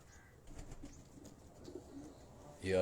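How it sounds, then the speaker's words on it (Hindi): Salare Teddy pigeons cooing softly at a loft in Abbottabad, faint low coos spread over a quiet background, with a louder thump near the end. "ये सलारे टेडी कबूतर हैं दोस्तों।"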